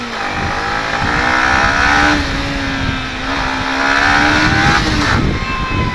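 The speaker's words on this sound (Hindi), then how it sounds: "फिर थोड़ी सी यहाँ पर खींच के भी देख लेंगे इस बाइक को।" A lightweight dirt bike with ABS revs hard close by, its engine note rising and falling in two long sustained pulls over about six seconds, loud and alone with no talk.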